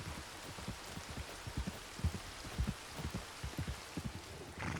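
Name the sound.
rain, from video game Red Dead Redemption 2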